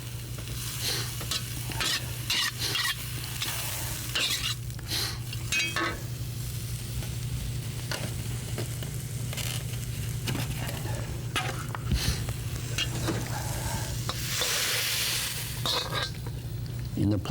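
Meat stir-frying in a hot wok gives a constant loud sizzle with repeated scraping and tossing strokes of a spatula, close up, with a steady low hum underneath.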